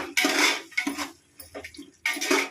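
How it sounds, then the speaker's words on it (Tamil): A utensil scrapes and stirs coriander and curry leaves around a pan, in bursts of rough metallic sautéing with short pauses between strokes. "இப்போ நல்லா அதை எல்லாத்தையும் சேர்த்து வதக்கி விட்டுக்கலாம்."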